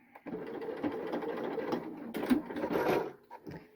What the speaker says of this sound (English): So I'm just going to back stitch.